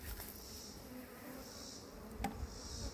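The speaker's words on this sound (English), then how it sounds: "There's bees leaving this hive with white sticky stuff." Honeybees buzz around an opened hive during beekeeping, some carrying white sticky material. A steady, close insect drone continues throughout with no voices.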